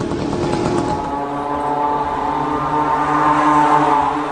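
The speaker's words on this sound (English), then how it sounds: "This is a small moped engine or scooter engine sourced from China at a cheap price." A cheap small Chinese moped or scooter engine drives a kamikaze drone, a steady, loud buzzing drone with a rough edge at the start, then a sustained harmonic whine that holds through the clip.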